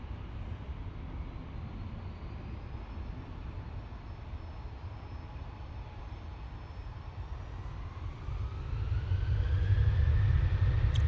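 A Ryanair jet taking off for Tenerife, heard as a distant, steady low rumble of engines that swells louder toward the end as it spools up for departure.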